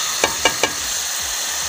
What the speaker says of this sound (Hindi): अब हम हल्का सा इनको इनकी भुनाई करते हैं अपने मसालों की